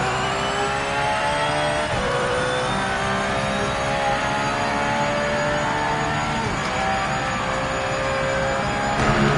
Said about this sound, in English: I think I can rev it out a bit longer than I am doing as well.